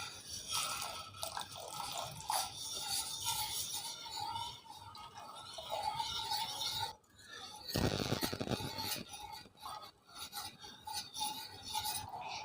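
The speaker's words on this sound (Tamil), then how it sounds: "இப்போ இந்த கஸ்டர்ட் மிக்ஸை கொஞ்சம் கொஞ்சமாக சேர்த்துக்கிறோம்" Custard mix is stirred little by little into milk in a pan, giving soft, close scraping and rubbing strokes with a few wet drips, fairly quiet and uneven, with a brief pause midway.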